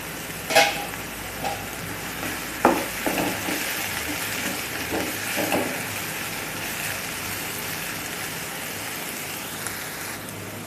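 Dried shrimp chutney cooking in a pan over low heat, a continuous crackling sizzle like light rain with a few sharper pops early on, no talking.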